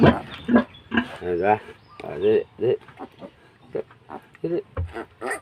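A piglet squeals in short, rising bursts as it is picked up to nurse from its mother, the cries coming close and loud, mixed with grunts and a person talking throughout.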